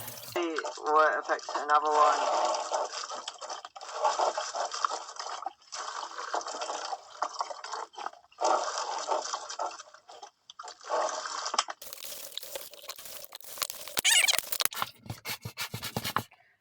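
Water poured from a bottle onto a LEGO house in a simulated hurricane, gurgling and splashing in bursts with short pauses, then sharper spattering and dripping near the end; close and fairly quiet.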